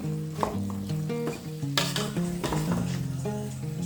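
A pot of soup is stirred, the utensil scraping and clinking against the pot over a bubbling sizzle, with tonal clanks standing out, and no talk.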